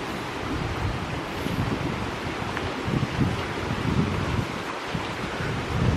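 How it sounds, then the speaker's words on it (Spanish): Continuous rushing water, a broad steady roar of flowing current with wind mixed in, close and without any voices. "Qué bonito hoy, el ruido del agua."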